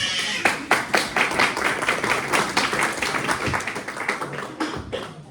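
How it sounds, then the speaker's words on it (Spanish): A church congregation claps together for the Lord in a dense, steady round of applause that runs for several seconds, fairly loud and close, with no speech over it. "Aplausos para el Señor"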